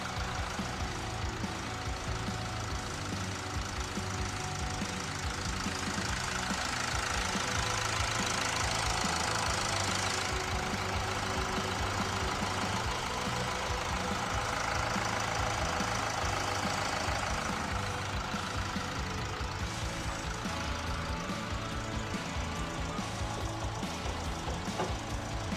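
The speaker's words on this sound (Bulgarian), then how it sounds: "Двигателят работи равномерно" A Toyota Yaris second generation with the 1.4 D4-D diesel engine idles evenly, giving a steady low clattering knock that stays close and constant throughout with no voices.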